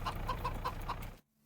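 Chickens in the coop cluck in a steady run of short repeated calls in the Farming Simulator game, continuing for about a second before cutting off abruptly to near silence.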